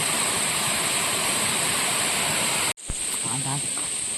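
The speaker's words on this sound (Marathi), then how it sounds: "इथे एक बंधारा घातला आहे त्याच्यावरून पाणी पडतंय" Water pours steadily over a small check dam on a stream at night during the first rains, a close, loud, continuous rushing hiss. It cuts off sharply near the end, leaving quieter ambience with faint voices.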